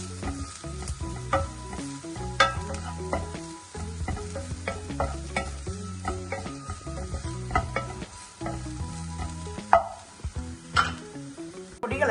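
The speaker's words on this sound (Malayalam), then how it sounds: "നന്നായിട്ട് ഇളക്കി കൊടുക്കാം." Ground coriander, turmeric and garam masala fry in a pan for chana masala while a spoon stirs them, making an irregular run of scraping clinks over a soft steady sizzle, close up and without speech.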